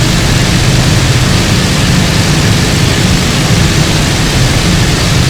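A WWII fighter's piston engine roars at full power during fast low-level flight near sea level in the IL-2 Bodenplatte combat flight simulator, a loud, dense, unbroken drone filling the whole stretch.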